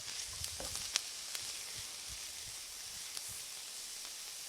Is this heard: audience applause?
no